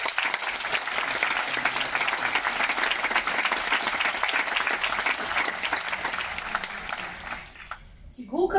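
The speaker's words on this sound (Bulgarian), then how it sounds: "Аплодисменти за Владимир!" Audience applause at an arts laureates' gala in Burgas, a long dense round of clapping from a hall audience that holds steady and then cuts off abruptly near the end.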